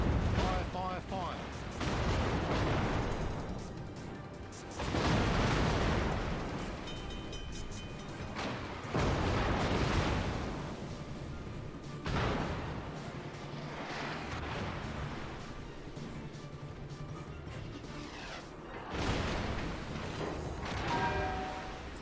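Naval guns firing in the World of Warships game, heavy booming salvos arriving in several loud bursts a few seconds apart over continuous engine and water rumble, with a voice talking throughout.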